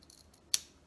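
Scissors cutting paper for a journal, a single sharp close snip in an otherwise quiet moment.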